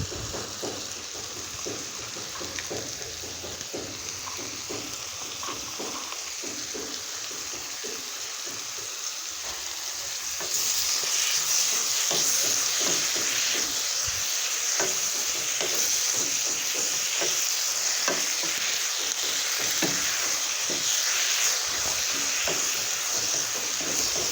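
Spinach frying in a pan for a dry village-style vegetable dish: continuous close sizzling that grows louder partway through, with rapid clicking stirs and scrapes throughout, no talk.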